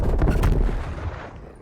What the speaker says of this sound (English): Semtex going out